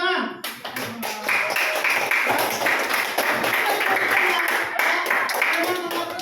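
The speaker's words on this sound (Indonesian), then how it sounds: "Nah, tepuk tangan." Classroom clapping from students, many hands beating in a steady burst that fills the whole stretch, mixed with children's voices and chatter.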